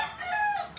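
A Raptor Sweater gamefowl rooster crows once, a short clear crow close by with no talk.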